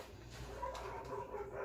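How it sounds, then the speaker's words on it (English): Next-door dogs bark and yip in a faint, scattered flurry heard from a distance, set against a steady background murmur with no clear speech. "The dogs are going crazy next door with my dog."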